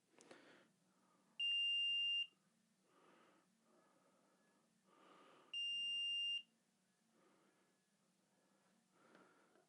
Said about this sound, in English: and beeping